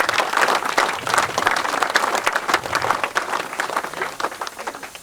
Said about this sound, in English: again, a round of applause for everyone who has made this possible today